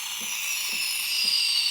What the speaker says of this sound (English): This is the noise you hear when you're steaming milk incorrectly.